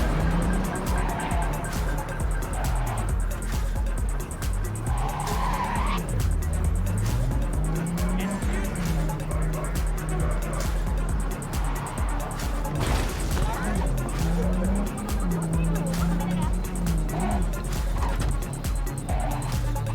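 A car in Cyberpunk 2077 drives continuously with a rising and falling engine note and repeated tire squeals and skids, with voices talking over it.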